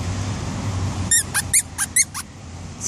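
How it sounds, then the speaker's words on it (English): A squeaky Santa dog toy squeaks about six times in quick uneven bursts while a pug puppy plays with it, close and fairly loud over a low background hum. "Squeaking."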